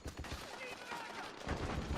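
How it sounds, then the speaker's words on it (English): Gunfire in the Metal Gear Solid 4 video game, a dense battlefield clatter of rapid shots that swells louder toward the end, under shouted voices. "Back me up! Suppressing fire!"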